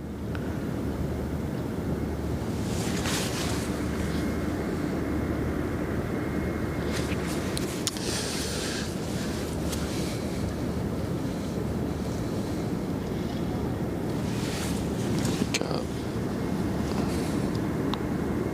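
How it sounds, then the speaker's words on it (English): Ships on the Westerschelde, Netherlands, pushing through choppy water: a steady broadband wash of waves and wind buffeting the microphone, with a low rumble beneath and a few brief louder gusts, no voices. "Look how they're plowing through the water."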